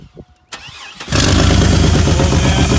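A gasoline engine sprayed with ether cranks briefly, then catches and roars into a loud, steady running note close by, with no talking.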